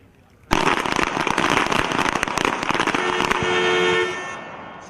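A rapid, overlapping volley of pistol shots from a team of shooters firing at targets in a U.S. Army pistol match, loud sharp cracks lasting a few seconds then tapering off.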